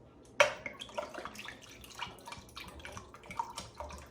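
Liquid poured into a glass already holding ice for a drink on the rocks, with a clink at the start and then a soft, uneven trickle and splash nearby in a quiet room.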